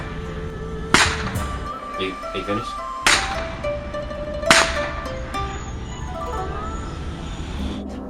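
Loud whip cracks ring out outdoors in China as people whip spinning tops for fun, three sharp snaps spaced a couple of seconds apart over street noise and a background melody, with a voice speaking briefly.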